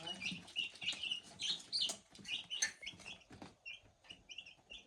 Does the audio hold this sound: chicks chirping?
yes